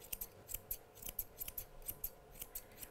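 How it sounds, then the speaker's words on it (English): Grooming scissors trim a miniature poodle's coat in a teddy-style cut, giving quick, close, quiet snips in an uneven steady rhythm with no talking. "When I'm holding my scissors,"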